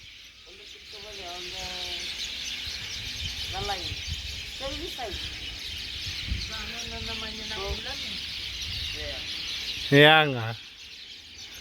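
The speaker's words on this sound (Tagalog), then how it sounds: "Daming ibon, no?" Many birds chirp and twitter outdoors in Fiji, a steady background chorus that runs through the whole stretch while people talk over it close by.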